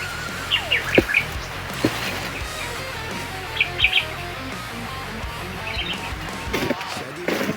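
Short bright bird chirps come in small bursts over a steady outdoor background, fairly faint and scattered across the stretch.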